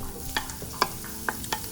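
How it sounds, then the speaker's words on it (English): Chopped onion sautés in about two teaspoons of oil in a pan for shakshuka, a soft close sizzle broken by a few sharp scrapes and taps of a spoon stirring. "saute your onion for about 1 minute"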